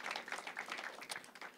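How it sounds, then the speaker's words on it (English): Audience applause for the panelists at a festival panel discussion, a dense patter of many hands clapping, fairly faint and distant, lasting only a moment. "Please give a round of applause for our panelists, Racene, Hillary, Michelle."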